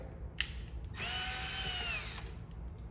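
A power screwdriver backs out a Phillips screw from the hook of a HEPA dust extractor, a single whirring burst of about a second between small clicks, moderately close.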